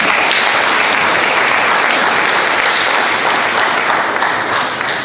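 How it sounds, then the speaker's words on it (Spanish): A church congregation at an evangelistic service gives loud, sustained applause, a thick, continuous roar of many hands close by that stays strong and only eases slightly near the end. "Denle un fuerte aplauso a nuestro Señor Jesús."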